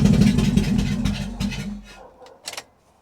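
A fire-damaged Mazda MX-5 Miata engine runs rough with a misfire and no exhaust fitted, a loud, close, lumpy throbbing that fades after about two seconds, followed by a few light knocks.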